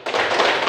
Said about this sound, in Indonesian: tepuk tangan untuk jawaban teman kamu semuanya